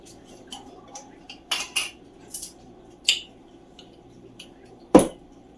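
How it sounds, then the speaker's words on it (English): Metal spoons clink against each other while baking soda is measured for a Polish Christmas dessert: a handful of sharp, close clinks scattered irregularly, ending with one loud strike, and no talking. "Time to get some spoons again. We need 2 teaspoons of baking soda."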